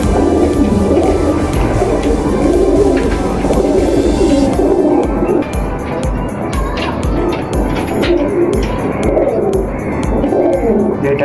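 Domestic pigeons coo in a low, throaty chorus, close by and continuous, with rustling and a faint rumbling hum in the background.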